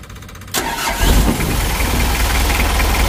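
A rebuilt Mitsubishi L300 diesel engine turns over briefly, then fires and settles into a loud, close, rough idle that clatters steadily to the end.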